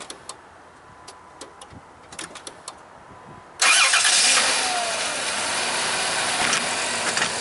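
A Chrysler van engine cranks briefly with a few ticking clicks, then catches and fires up into a loud, steady idle that holds to the end, with no talk.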